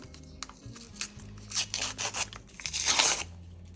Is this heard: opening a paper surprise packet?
yes